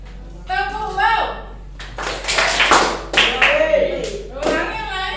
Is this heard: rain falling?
no